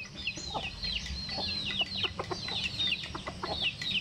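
Chickens clucking repeatedly in short bursts, with several birds close by and a steady low rumble of farmyard noise underneath.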